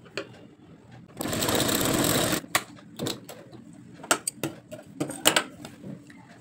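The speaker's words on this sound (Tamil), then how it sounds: "நமக்கிட்ட இந்த ஓரத்துலேயும் ஒரு தையல் போட்டுக்கணும்." A sewing machine stitches along the edge of blouse fabric in a loud, sustained run of over a second, then gives way to scattered clicks and handling taps.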